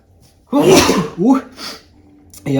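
A person sneezes loudly up close, a sharp burst followed by a smaller gasping after-sound, then quiet before speech resumes.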